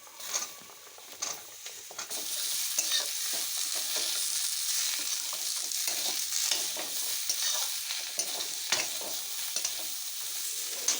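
Potatoes fry in spiced masala with chilli, salt and turmeric, a continuous sizzle broken by repeated scraping stirs of a spoon against the pan, heard up close.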